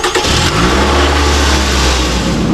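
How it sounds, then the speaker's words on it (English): A 2007 Toyota Camry engine cranks and catches, then settles into a loud, steady close running hum, with no one talking. "Now with the car running"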